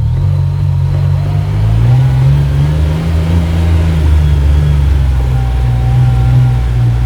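Steady low engine drone of a 2026 CFMOTO U10 PRO XL enclosed side-by-side driving smoothly in low gear, even and continuous with a slight rise in pitch partway through, heard from inside the cab.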